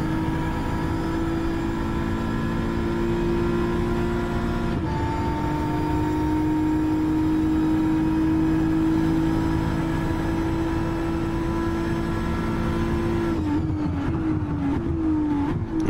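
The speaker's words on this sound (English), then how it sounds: "Doc Hudson's just getting around that final corner, and again he'll get eaten up by a controller user and possibly fried tyres." A racing car engine in a video game, with Doc Hudson cornering on the Fuji track, drones steadily and loud the whole way through, its pitch dipping once midway and again near the end.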